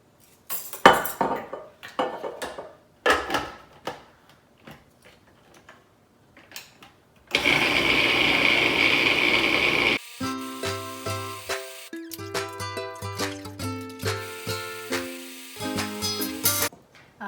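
A food processor purées cooked cauliflower with olive oil, giving a steady whirring hum for a few seconds, set among quick clinks and taps of utensils and dishes.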